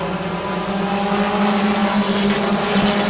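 Stock race cars lapping Midvale Speedway pack together in a loud, steady engine roar with a strong droning tone, holding constant throughout with a brief tire squeal.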